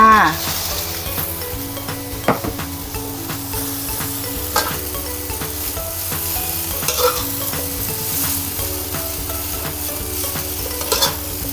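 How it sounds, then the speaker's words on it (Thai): Pork, egg and glass noodles stir-fried in a pan, with continuous loud sizzling and repeated scraping and tapping of a utensil against the pan, no voices. "เอาหมูค่ะ มาผัดกับไข่นะคะ ผัดไปเรื่อย ๆ แล้วก็ใส่วุ้นเส้นลงไปค่ะ"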